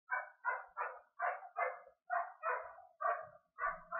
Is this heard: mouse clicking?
no